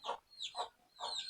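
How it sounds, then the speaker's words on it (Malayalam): A hen clucks three times in quick succession, soft rounded calls with a faint chirpy edge, fairly quiet and nearby with no other sounds. "എൻ്റെ കോഴിയാണ് ഇപ്പം എൻ്റെ കൂട്ടിന്"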